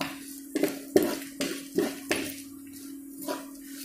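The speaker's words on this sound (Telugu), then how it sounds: "దానిలో అలాగే ఇప్పుడు 4 ఎండుమిర్చి వేస్తాము. ఇది కూడా కొద్దిగా లైట్ బ్రౌన్ కలర్ వచ్చే వరకు వేయించుకోవాలి." Four dried red chillies frying in a pan for ginger chutney: about five distinct metal spatula knocks and scrapes ring out against the pan in quick succession, with a faint sizzle between them and a quieter tail; no talking.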